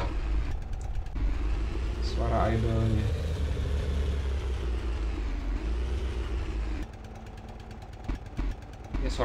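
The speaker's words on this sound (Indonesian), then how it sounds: "Suara dolak mesin kelotok." A tank engine in the tank-design game Sprocket gives a steady low rumble with stretches of rapid, clattering putt-putt chugging like a kelotok boat motor, sometimes easing to a quieter idle.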